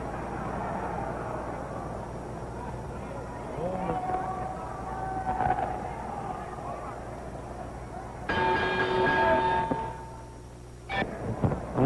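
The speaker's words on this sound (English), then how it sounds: "and there's the bell." A boxing ring bell rings to start round 4 of a 1960 title fight between Sugar Ray Robinson and Gene Fullmer, a sharp ringing tone under crowd noise and a commentator's voice.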